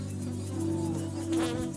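Bees buzz in the field, a loud, continuous drone close by, with shifting pitch as individual insects pass near.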